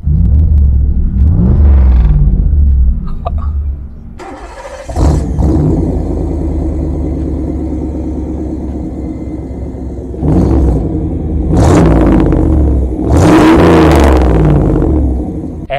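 A 1991 Pontiac Trans Am with a 5-litre engine and a reworked exhaust starts with a loud, close rumble. It settles into a deep idle, then revs hard in several sharp bursts.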